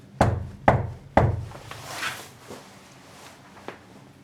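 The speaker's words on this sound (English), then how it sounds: "If I knock on this door, can you knock back? I'll knock 3 times." Three sharp knocks on a door inside the old abbey house, evenly spaced in quick succession, followed by faint room sounds and a small tap.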